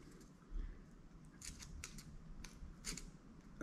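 Scissors cutting off a damaged section of fluorocarbon fishing leader, several short sharp snips close by against a quiet background, with no talking.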